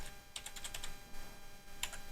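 Keys pressed on a faulty computer keyboard, a quick cluster of several sharp clicks followed by a pause and one more tap, close and moderately quiet with no talking.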